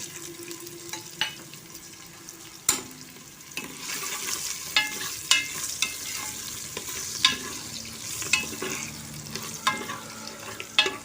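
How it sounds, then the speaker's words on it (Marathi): Raw peanuts sautéed in a pan for a spiced brinjal rice dish, a soft continuous sizzle broken by sharp clacks and scrapes of a spoon stirring the nuts, steady and close with no voices. "एक 2 मिनिट परतून घेते"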